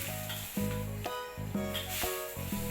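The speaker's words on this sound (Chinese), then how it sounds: "我们把它炒一炒" Luffa being stir-fried in a hot wok with softened wood ear mushroom and carrot, a steady close sizzle broken by several rhythmic scraping strokes of the spatula, with no voices.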